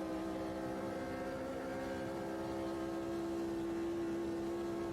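Brabham Formula Vintage Generation 2 race car from 1970s motorsport, driven in Automobilista 2 at vintage Spa Francorchamps, its engine holding a steady, sustained drone throughout with no talk over it.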